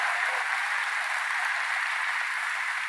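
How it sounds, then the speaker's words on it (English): An audience at a public event at Wilkes University breaks into a continuous round of applause, dense and even, with no voices over it. "Let's give them another round of applause for their leadership."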